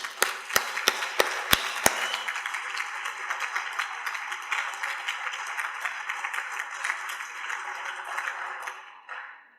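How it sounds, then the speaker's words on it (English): Applause from a no-till farming conference audience begins with a few sharp, separate claps, then swells into dense, sustained clapping that holds steady before fading out near the end, with no talking. "if we could just give Richard and Sandra and the rest of the team a round of applause for a successful conference"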